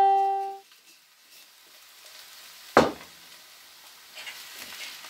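Tomato sauce for a gluten-free chunky chicken cacciatore hits a hot frying pan with vegetables in a sudden splash and settles into a soft, steady sizzle, after a brief tonal beep at the start.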